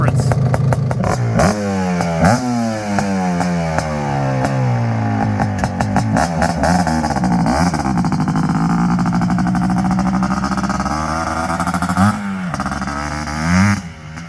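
A restored Suzuki Quadzilla 500 ATV engine, freshly rejetted, revs up and down repeatedly with sweeping throttle blips throughout, loud and close, with voices talking over it.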